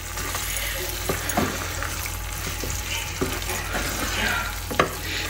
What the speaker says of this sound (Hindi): इसको हम हल्के हल्के हाथों से मिक्स करेंगे